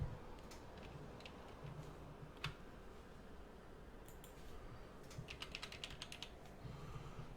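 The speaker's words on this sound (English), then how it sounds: "And of course, we type in the information." Keystrokes on a computer keyboard while entering vendor information into accounting software, a light irregular patter of clicks over quiet room tone, with a denser burst of typing toward the end.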